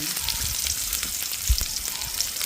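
Fennel and mustard seeds sizzle and crackle in hot oil with a steady close hiss, a few soft pops and one louder thump near the middle.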